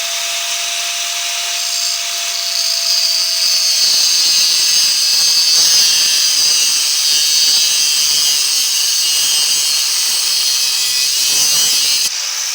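A cutting wheel grinds through a metal compressor casing, producing a loud, steady high-pitched whine that holds for about twelve seconds.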